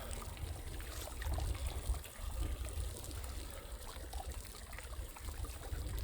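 Hot spring water pours steadily into an outdoor soaking pool, a continuous close splashing trickle with a low rushing undertone and no voices.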